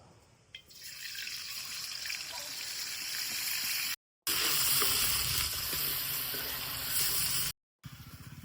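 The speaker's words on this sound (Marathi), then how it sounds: "मी आता ह्या तेल ना तापला याच्यात आता मी फोडणीक देत आहे" Spices sizzle loudly in hot oil, a dense, steady hiss that briefly cuts out twice.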